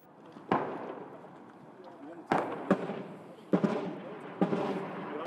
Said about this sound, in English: In prolonged artillery and mortar barrages.